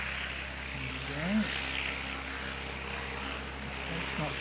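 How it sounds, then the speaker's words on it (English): A Piper Warrior II light propeller airplane drones steadily with engine hum and propeller whir at a windy aero club airfield, low and continuous under faint voices. "That's the sound of the Piper Warrior"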